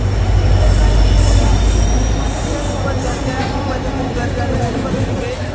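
A Janshatabdi Express train rolls into the station loudly with metallic wheel squeal and high-pitched screeching over a heavy rumble, close by.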